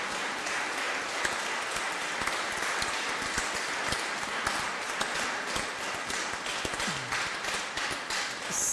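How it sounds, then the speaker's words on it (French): A church congregation at Christmas mass applauds the choir, a dense, steady wash of clapping that fills the whole stretch at moderate loudness with no talk over it. "On peut les applaudir."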